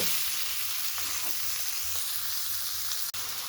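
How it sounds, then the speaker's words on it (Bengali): Chicken fries in spices in a wok, giving a constant close hiss and sizzle with faint stirring scrapes throughout. "চিকেনটাকে মশলার সঙ্গে বেশ কিছুক্ষণ ভেজে নিলাম"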